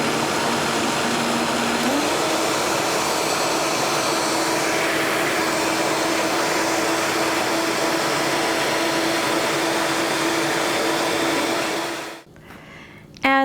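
A kitchen blender mixing a homemade V8 vegetable juice smoothie runs as a loud, steady whirring drone, rising in pitch early on as the speed is turned up, then cutting off abruptly near the end.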